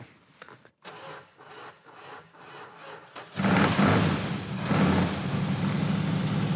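A car engine on a Pro Street road-trip build cranks with rhythmic starter chugs, then catches and settles into a loud, steady rumbling idle close by.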